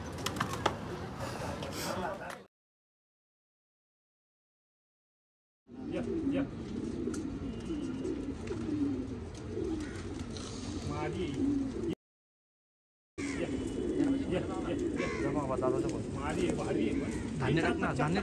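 Domestic pigeons kept for pigeon flying in Pune coo and flutter nearby in soft, repeated low calls, broken by two silent gaps while people talk over them.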